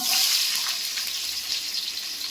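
Onions hitting four spoons of hot oil for a chicken gravy curry, a steady bright sizzle and hiss filling the whole short stretch, close and fairly loud with no talk.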